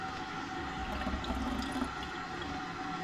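A toilet flushing in a virtual recreation of the Anne Frank House, a steady broadband rush of water lasting the whole stretch, moderately loud and close, with no one speaking.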